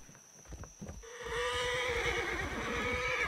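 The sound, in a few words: horse neighing in Roblox video game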